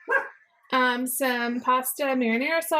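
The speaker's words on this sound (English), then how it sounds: "Sorry for the dog barking." A dog barks and yips repeatedly in a home kitchen, several close, loud, tonal barks that run together with someone talking at the same time.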